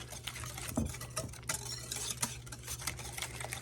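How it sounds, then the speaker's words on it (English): A whisk stirs pie filling in a bowl, a soft steady scraping with light clicks against the bowl, quiet and close, with no talking. "we're just going to whisk these things together"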